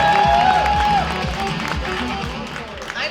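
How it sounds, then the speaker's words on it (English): A crowd at a convention stage gives moderately loud applause that tapers after a second, with whistles and murmuring voices over the clapping. "Big round of applause."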